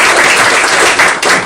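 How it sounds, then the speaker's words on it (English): Audience at a borough council meeting applauding, a steady wash of clapping that stays fairly loud and even throughout, with a slight dip near the end. "let's give you guys a round of applause for that"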